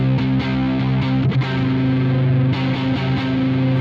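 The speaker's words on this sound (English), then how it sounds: "when you just change one note and move to the Lydian scale, you get awesome sounds like this?" Electric guitar with distortion and effects plays the C Lydian scale, notes flowing one into the next with a dark, slightly dissonant color; steady, loud and continuous with no speech.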